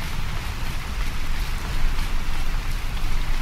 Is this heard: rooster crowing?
no